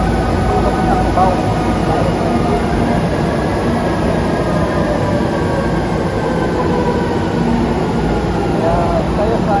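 A Manila MRT train on EDSA heading to Cubao rumbles steadily through a crowded station, a loud continuous drone with faint whining tones and a busy background of voices.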